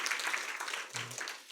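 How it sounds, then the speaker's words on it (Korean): Brief, faint applause from an audience in a university lecture hall, a soft wash of scattered clapping lasting about a second and a half. "이럴 땐 박수를 좀 쳐주셔도 됩니다"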